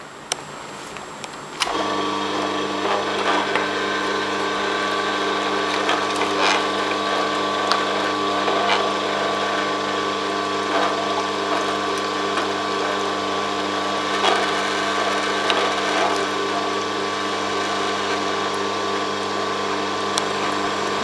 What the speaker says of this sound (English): I like to put this through my masticating juicer